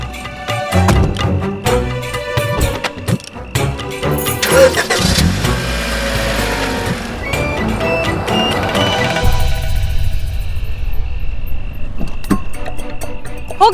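A car's engine, just repaired, cranks in a choppy burst, catches with a loud rising roar, then settles into a steady, close idle.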